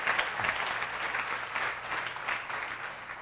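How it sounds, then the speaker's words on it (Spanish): A church congregation claps in sustained, dense applause during a Sunday service, steady and fairly close for the few seconds heard. "dale un aplauso a nuestro Rey"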